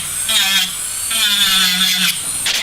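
Electric nail drill filing an acrylic nail around the cuticle area, a high whining buzz in close bursts that stop and restart, with a faint low hum beneath.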